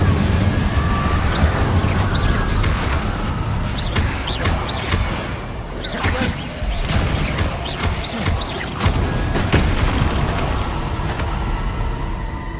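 Incendio fire spells cast repeatedly in Hogwarts Legacy, with dense crackling bursts and whooshing impacts over a continuous loud roar of fiery combat lasting several seconds.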